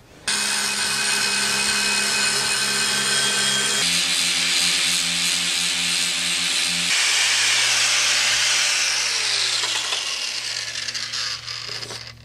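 A grinder sharpens the edge of a steel blade, probably a crescent-bladed polearm, with a steady loud hiss and whine that runs the whole time. Its pitch shifts in steps as the blade is moved against the wheel.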